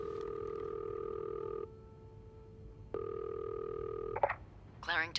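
Telephone tones from a phone being dialed in the game This Bed We Made: two long steady tones separated by a short pause, then a brief chirp and a faint voice-like ring at the end.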